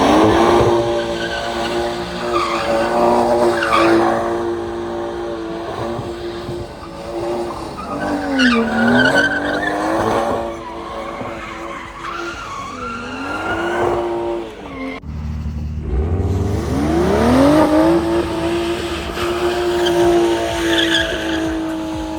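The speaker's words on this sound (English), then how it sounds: "So we just drifted a little." A BMW M340i and a 540i, both B58-engined, drift with long, loud tire squeals and skids over roaring engines, close by and continuous, with pitch rising and falling as the cars slide.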